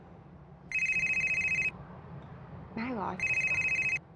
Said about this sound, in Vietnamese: Nghe điện thoại kìa.